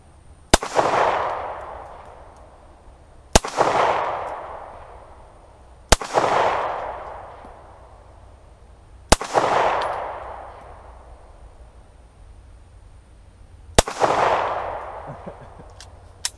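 Five single gunshots fired downrange at a target on an outdoor range, each a sharp loud crack followed by a long ringing decay, spaced a few seconds apart with quiet between shots.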